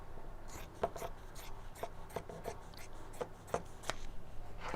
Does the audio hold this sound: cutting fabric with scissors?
yes